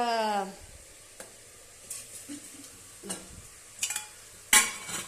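Mutton and onions fry in a pan, giving a low sizzle broken by several distinct clinks and scrapes of a utensil stirring against the pan, all close and fairly quiet.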